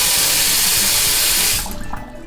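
Tap in a Finnish home with high water pressure and plenty of hot water, running in a strong steady rush, loud and close, then cut off before the end, leaving faint background sound.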